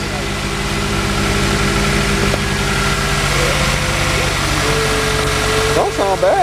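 A high-mileage Honda car at a snowy police auction idles just after starting, a loud continuous engine drone close by, with a person talking over it.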